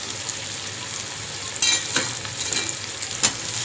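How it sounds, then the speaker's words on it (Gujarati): Onions and tomatoes sizzle steadily in a pan over high heat while a spoon stirs them, with a few louder scraping swishes rising above the constant hiss. "સતત એને આવી રીતે હલાવતા રહેવાનું છે"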